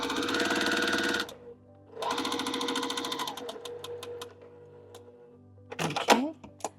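A sewing machine stitches a quilt seam in two sustained bursts of fast, even whirring, then lighter mechanical clicks and clacks, with a brief voice near the end.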